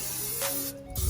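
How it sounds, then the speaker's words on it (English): A short hissing spray from an olive oil cooking spray can, about half a second long, close by and fairly loud, followed by a soft thump. "Now it's time to spray again, but now with olive oil spray"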